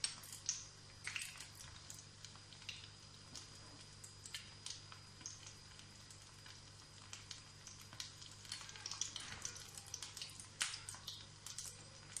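Kashmiri kabab patties frying in a pan, a faint, steady sizzle with scattered small crackles and spits, over a low constant hum.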